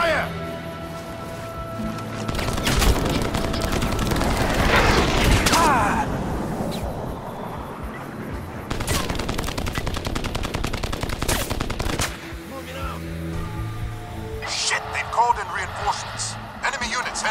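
Sustained gunfire from the 2007 video game Crysis crackles loud and continuous, bursts and single shots layered over game action, with shouted voices heard amid the shooting.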